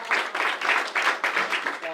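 A small audience at a magic show claps after a rope trick, a few scattered hands in uneven bursts, fairly close and modest in volume.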